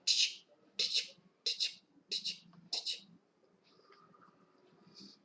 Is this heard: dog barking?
no